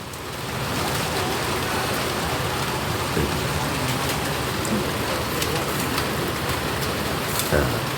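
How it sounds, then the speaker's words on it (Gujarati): Heavy rain falling steadily at a home, a dense and continuous close patter on surfaces that builds over the first second, then holds evenly with occasional faint sounds in the background. "વરસાદ સારો એવો આવે છે"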